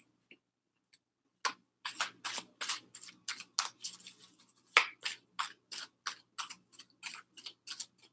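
Oracle cards shuffled by hand nearby, a run of crisp, rapid riffling flicks in quick bursts after a quiet start, with no talking.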